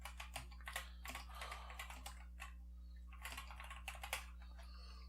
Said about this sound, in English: But no, this gives me the ability to type.